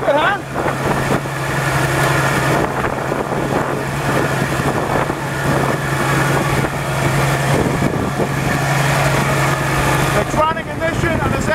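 An engine with electronic ignition idles with a loud, steady low hum. Wind noise buffets the microphone, and the engine cuts out near the end.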